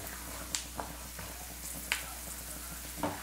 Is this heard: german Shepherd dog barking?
no